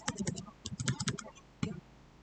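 Computer keys and mouse buttons click in quick, close bursts of sharp taps during database work, grouped into short clusters with brief gaps and a final separate tap.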